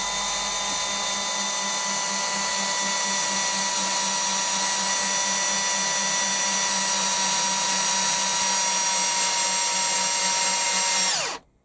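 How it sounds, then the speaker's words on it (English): An electric drill with a socket fitted whines steadily at high speed for several seconds, loud and close, winding a lathe compound slide, then winds down and stops abruptly. "I got an electric drill with a socket on the end"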